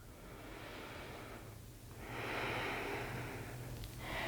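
Slow, deep breathing during an at-home vinyasa yoga session: a long audible inhale and exhale close to the listener, soft and airy, with no talking over it.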